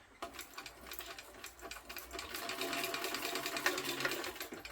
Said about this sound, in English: So you want to stitch across the bottom.